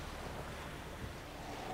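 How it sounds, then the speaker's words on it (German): Steady wind whooshes in The Witcher 3: Wild Hunt, a broad, even roar like surf or gusts in an open outdoor game area, continuous and moderately loud with no talk. "Oh, der Wind, der Wind."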